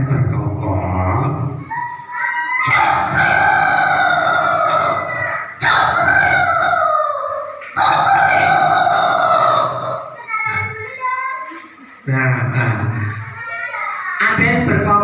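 Puppet show at an Easter service: a rooster crows loudly several times in long, drawn-out calls, alternating with children's voices and talk nearby.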